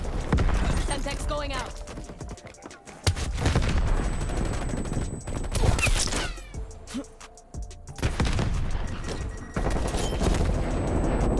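Dual-wielded magnum pistols fire in a first-person shooter video game, loud sharp shots in bursts and volleys across several seconds among other game effects and a gap of quieter sound.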